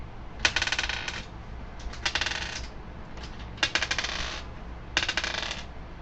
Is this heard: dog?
no